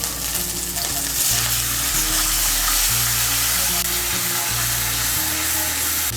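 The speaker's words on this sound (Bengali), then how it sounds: "আদা বাটাটা যেন না ছিটকোয় তার জন্য এর মধ্যে আমি দিয়ে দিচ্ছি সামান্য একটু জল।" Ginger paste sizzles and fries steadily in hot oil in a pan as a little water is added for cauliflower dalna, a loud continuous crackle with a low hum underneath and no talking.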